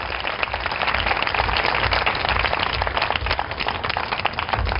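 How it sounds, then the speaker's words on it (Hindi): Congregation at a worship service clapping hands in praise, dense continuous applause filling the room without a break. "Clap your hands and praise God."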